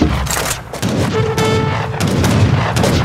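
Bombard cannon fire in Age of Empires 3 battle: a series of heavy booming blasts and crackling bursts close together, dense and loud, with a faint tonal hum running beneath.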